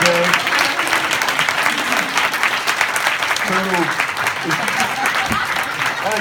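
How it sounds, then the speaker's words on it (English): Loud, dense standing applause from a crowd fills the room continuously, with a few voices and cheers mixed in. "Standing applause for Jay."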